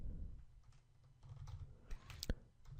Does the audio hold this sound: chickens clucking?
no